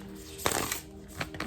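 Tarot cards being shuffled close by, a few soft riffling bursts with quiet pauses between them, no voices.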